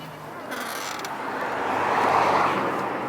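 Mitsubishi 3000GT door hinges swing upward into a vertical position, a swelling mechanical creak and hum that builds over a few seconds, near and moderately loud, with a short rattle at the start.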